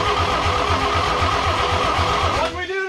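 A 1954 Chevy Bel Air, not run for four years, cranking with a steady rhythmic starter chug that stops abruptly near the end, loud and close.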